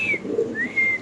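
A pigeon at a pigeon seller's makes a brief low coo alongside thin whistling tones, heard close within about a second and without speech.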